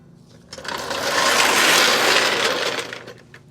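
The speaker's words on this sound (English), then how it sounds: "I'm gonna drop the jack down" Hydraulic floor jack letting down under a 1961 Mercury Comet after an 8-inch rear end swap, a steady hissing, rattling mechanical release rising after half a second and holding for about two and a half seconds before fading, with no talk over it.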